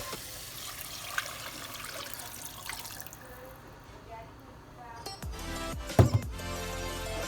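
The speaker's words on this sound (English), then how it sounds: "Next step is we're going to go ahead and add 3½ cups of water." Three and a half cups of water splash and pour into a jambalaya pot after a stretch of quiet kitchen background, a brief close burst of liquid with a few louder splashes.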